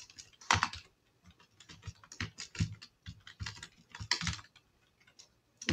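Rapid clicking of a computer keyboard while code is typed for a Django blog footer, keystrokes arriving in uneven bursts and short runs with brief pauses, close and fairly quiet, with no voices.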